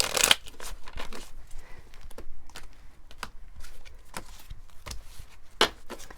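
Tarot cards shuffled by hand at close range, quiet riffling and soft slapping in irregular bursts, with a louder crisp snap at the start and again near the end.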